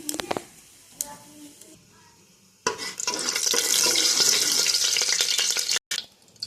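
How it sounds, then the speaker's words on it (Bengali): Cumin seeds and dried red chillies hit hot oil in a pressure cooker, erupting into a loud, close, sustained sizzle after a few quieter clinks and handling noises, then cutting off briefly near the end. "যেহেতু তেল গরম হয়ে গেছে, এখানে জিরা, শুকনো লঙ্কা দিয়ে দিলাম।"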